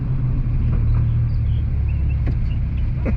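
A 2006 Dodge Viper SRT10 engine pulls on throttle with a deep, steady, loud rumble and low drone, continuous throughout with no talking.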